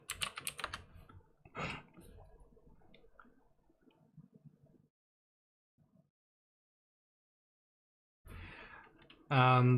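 Typing on a computer keyboard: quick bursts of clicking keystrokes, some near and distinct, then a pause and a sharp final burst, with someone talking between them.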